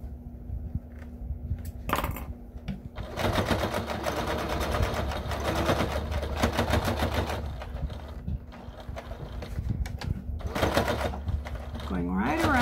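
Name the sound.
sewing machine stitching fabric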